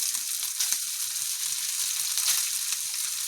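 Cooked rice tossed into a hot frying pan for egg fried rice, giving a steady, close sizzle and frying hiss throughout with faint stirring scrapes, no voices.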